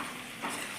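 A cornflour mixture is stirred for soya chilli gravy, making a brief, steady wet swishing and scraping that sounds close and even throughout.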